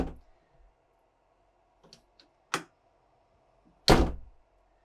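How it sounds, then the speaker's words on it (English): The entry door of a 2025 Newmar Mountain Aire RV is pulled shut into its second lock, giving a few light clicks and then two sharp latching thunks, the last one loudest, in a quiet interior. "make sure when you close it that you pull it tight enough to go into the second lock"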